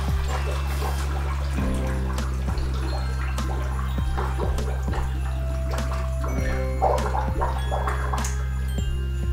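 Warm, previously boiled water pours into a container for homemade sea salt spray, a continuous trickling and splashing heard up close over a low steady hum.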